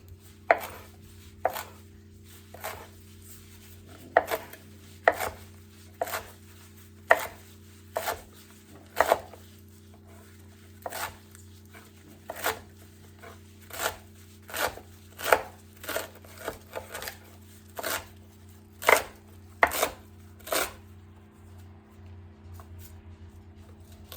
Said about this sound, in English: So let's go ahead and get this chopped up, and then we'll move on.